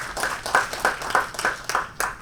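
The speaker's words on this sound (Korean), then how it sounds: "다시 한번 뜨거운 박수를 부탁드리겠습니다" Audience clapping for two presenters at a forum on Jeju's space industry, a short burst of distinct, fairly regular claps close by and moderately loud.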